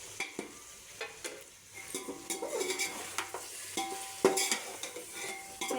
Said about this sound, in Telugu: వేసి బాగా మిక్స్ చేసుకోవాలి.